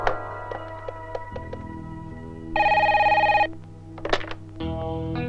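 A telephone rings in short electronic bursts over a low, steady background hum, with one longer bright buzzing tone in the middle and another starting near the end; nobody speaks.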